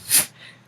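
A single sharp sneeze bursts out near the start, loud and close, followed by quiet breathy room noise.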